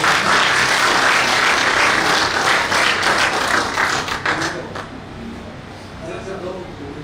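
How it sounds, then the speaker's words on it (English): Audience applause for panelists at an industry leaders summit, a dense burst of clapping that thins and fades out toward the end, with some voices underneath. "Can we have a big round of applause for them?"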